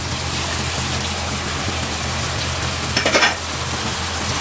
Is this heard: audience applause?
no